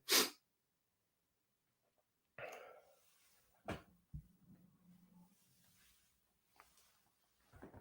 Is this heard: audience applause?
no